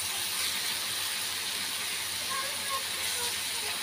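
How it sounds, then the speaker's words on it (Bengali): Bitter gourd (karela) frying in oil, a steady, broad hiss and sizzle that stays even and close throughout, with light crackle and no voices. "করলা ভাজিটা করে নিচ্ছি।"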